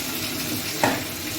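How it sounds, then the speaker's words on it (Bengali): Fish frying in a pan with a small amount of gravy, a steady soft sizzle with a brief louder stir or spatter near the middle. "এটা একটুখানি ভাজা ভাজা করতে করবো"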